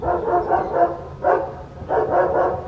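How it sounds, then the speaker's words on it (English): Police dogs bark at a prison, loud repeated barking in three bursts, some barks overlapping as if from more than one dog, fairly close and with no voices over it. "Dogs again"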